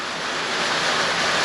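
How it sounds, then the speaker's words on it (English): Heavy rain pours down steadily at an off-grid building site where concrete piers are being poured, a dense, constant hiss that stays loud throughout the short moment. "it's pouring."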